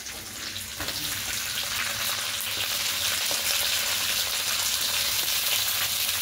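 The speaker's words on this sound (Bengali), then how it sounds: "দিয়ে হালকা একটু ভেজে নেব। এখানে কাঁচা লঙ্কা কুচি দিয়ে দেবো, আর এখানে আছে পেঁয়াজ আর ক্যাপসিকাম" Chopped onion, capsicum and green chilli sizzling in a hot pan, a steady close frying hiss with faint stirring, no voices.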